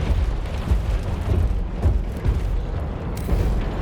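Magnetic bombs exploding in the mech combat game War Robots Frontiers, a dense run of heavy booming blasts and rumbling bursts that overlap continuously, loud and close with no talking.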